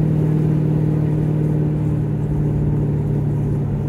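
A car rolling on new, wider front tires, a steady loud engine hum and road rumble from inside the cabin, even and unbroken throughout.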